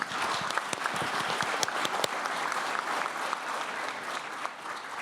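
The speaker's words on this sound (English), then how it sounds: "another round of warm applause is in order" Audience applause for panelists at the close of a Tokyo policy dialogue, a steady, dense wash of clapping from a large crowd that holds evenly for the full stretch, with a few sharper claps standing out.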